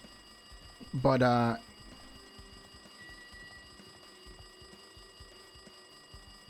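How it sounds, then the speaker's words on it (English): A telephone ringing in the video game Danganronpa 2, one loud electronic trill lasting about half a second over steady background game music, with a person talking quietly nearby. "It looks like the phone is ringing."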